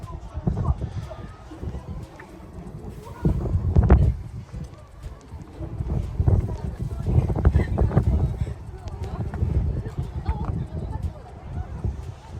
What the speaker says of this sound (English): I don't know if you guys can tell by the audio, but it was pretty windy the evening that we visited Umeda Sky building.